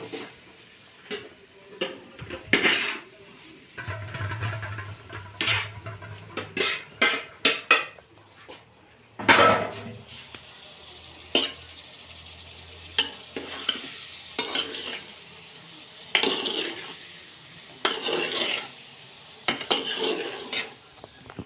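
Soya chunks go into a curry pan with tomatoes, bringing scattered scrapes and clinks of a spoon against the pan over a quiet, soft frying sizzle, with pauses between the stirring bursts.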